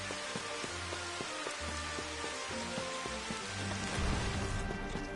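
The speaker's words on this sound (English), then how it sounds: "I actually love the rain, I just don't care for it right now just because it's kind of loud." Rain in the Final Fantasy XV Platinum Demo video game falls as a faint, steady hiss beneath soft game music, with no one talking.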